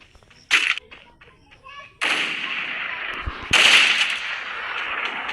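AWM sniper rifle shots in a mobile battle-royale game ring out loud and close, with sharp reports followed by long, sustained noisy booms and echoing rumble, alongside scattered game effects.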